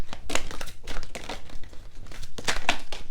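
Tarot cards being shuffled by hand, a close, crisp run of papery riffling and slapping bursts in uneven rhythm, with no voices.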